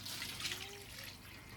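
Water runs steadily into a birthing pool being filled at an off-grid home, a soft continuous splashing and trickling heard faintly and alone.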